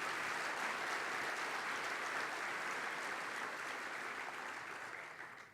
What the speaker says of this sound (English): So let's give them both a big round of applause.